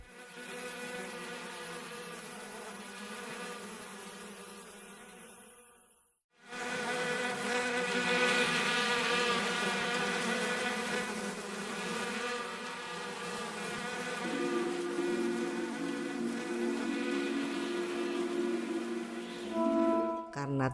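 Bees buzzing in a dense, continuous drone that stays loud and steady, breaks off briefly about a third of the way through, then resumes just as full, with no voices.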